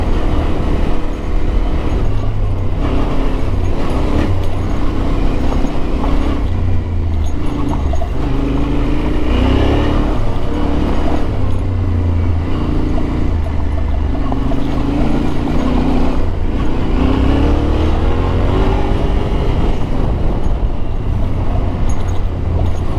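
A Yamaha Tenere 700 (T7) adventure motorcycle rides off-road, its engine droning loudly and continuously with rising and falling revs, mixed with wind rush and rumble from the rough ground.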